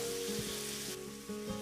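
Onions sautéing in a pan for a fenugreek curry give a steady, close sizzle with no talking, and a few soft stirring scrapes break through it.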